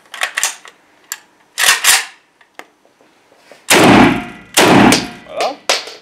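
A Kalashnikov-type rifle handled with an empty Yugoslav magazine gives a series of sharp metallic clacks and heavier thuds, close and loud, as the bolt cycles and locks back.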